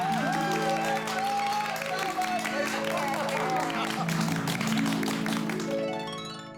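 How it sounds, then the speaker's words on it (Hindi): Enthusiastic clapping for a housing society's secretary, Bhide, in a TV comedy scene, dense and steady throughout, mixed under loud tonal background music and fading toward the end. "हमारे सोसाइटी के एक मैं सेक्रेटरी श्री आदवराम दुकाराम भिड़े के लिए जोरदार तालियां बजाइए"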